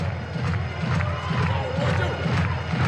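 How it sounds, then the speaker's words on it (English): A stadium crowd cheers and shouts at a Savannah Bananas baseball game against the Party Animals at Grayson Stadium, a dense, sustained roar of many voices rising and swelling throughout. "We have to get this crowd fired up and electric tonight."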